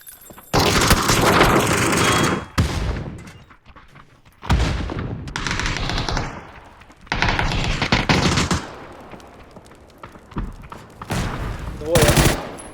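Bursts of rapid automatic gunfire and explosions from the video game PUBG come in several loud waves separated by brief, quieter gaps.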